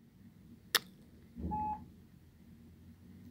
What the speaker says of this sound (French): T'as pas fini de faire bip, toi?